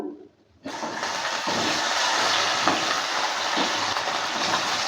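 Potatoes hit hot oil in a pan, a sudden loud sizzle that bursts in after a brief near-silence and holds as a steady, close, dense hiss with faint stirring knocks.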